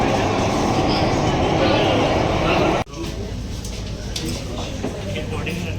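A Mumbai underground metro train runs at speed, a loud steady roar of wheels and rail that drops abruptly midway into a quieter but continuous hum and rattle inside the carriage.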